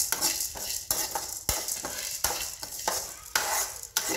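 Cumin and spices being stirred and dry-roasted in a pan, with repeated scraping strokes and soft sizzling at a close, moderate level and no voices.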